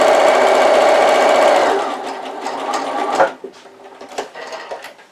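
A sewing machine stitches a seam on a fabric gift box, a loud, fast, even whirring burst that stops abruptly after about two seconds, followed by quieter handling and fabric rustles.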